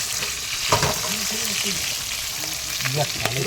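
Small river fish frying in a pan with oil, a continuous loud sizzle with occasional stirring scrapes and faint voices underneath.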